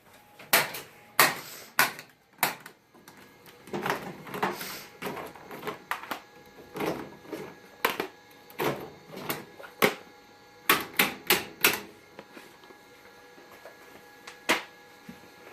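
An Epson SureColor S-series large-format printer depressurizes its ink system during repair, producing a scattered series of sharp mechanical clicks and thumps at irregular intervals over faint background hum.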